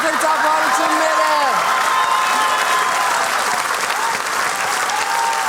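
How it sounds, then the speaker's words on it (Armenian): A studio audience breaks into loud, sustained applause for a guest singer, a dense wash of clapping that holds steady throughout with a voice briefly calling over it at the start. "Ծափարությունները ավելի բուռ են գնացին"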